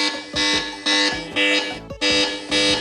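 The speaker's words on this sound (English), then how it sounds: "the alarm doesn't even loop properly" Alarm of an 8849 Tank 4 rugged smartphone, a loud, harsh buzzing tone that pulses in repeated bursts about every half second, with an uneven hitch partway through where the loop stutters.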